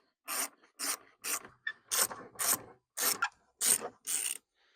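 Ratcheting clicks from a T25 Torx screwdriver backing screws out of a Volkswagen Passat B5.5, close and loud, in about nine evenly spaced rasping bursts with brief pauses between them.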